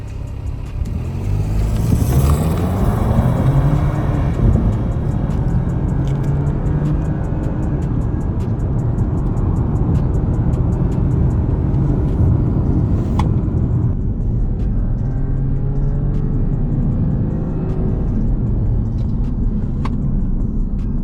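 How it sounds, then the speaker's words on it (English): A BMW 218i (2024) engine hums and rumbles steadily while driving, a low continuous drone with faint road noise and occasional small clicks, no voices. "do you hear that engine? This is beautiful."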